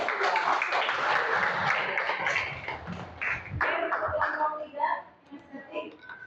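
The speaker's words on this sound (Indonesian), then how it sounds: "Tepuk tangan untuk kelompok" A crowd claps for several seconds, the applause thinning toward the end, with a voice or two mixed into the noise.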